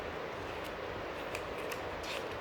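Scissors cutting paper while making a Mother's Day card, a close, steady papery rasp with a few sharper snips scattered through it.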